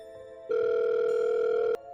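A steady telephone dial tone starts abruptly and holds for over a second, then cuts off with a short click; no one speaks.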